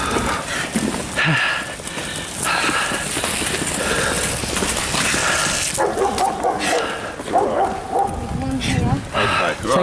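A dog barks repeatedly while people talk over it nearby, with some whimpering mixed in and the voices staying prominent throughout.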